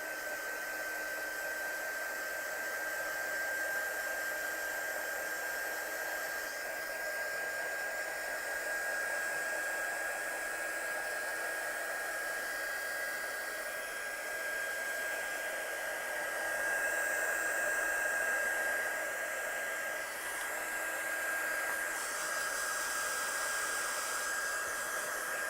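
A hair dryer blows steadily on watercolour paint and paper, a continuous whining hiss with a thin high tone, close and fairly loud, running alone without pause for the whole stretch.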